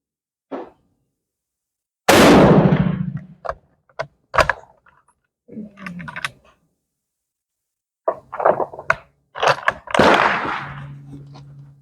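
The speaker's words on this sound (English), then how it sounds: "I'm going to shoot right on the bullseye on the right target." Krag Springfield rifle fired at a target on a range, a few sharp separate cracks with short decays spread across an otherwise quiet stretch, plus some clatter.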